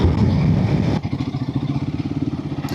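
A Royal Enfield Himalayan 450 motorcycle's engine runs steadily while riding, loud and close with a throbbing mid-low drone, briefly dipping then pulsing rhythmically as it carries on.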